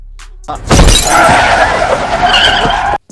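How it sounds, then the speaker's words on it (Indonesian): A car in a film skids hard and then crashes into an elderly woman on a road, a loud sustained screech with shattering impacts that cuts off abruptly. "saat mereka menabrak seorang wanita tua hingga tewas"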